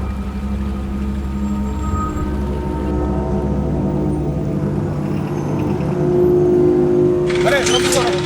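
A motorbike ridden fast, with a steady, loud, close engine drone that swells slightly toward the end.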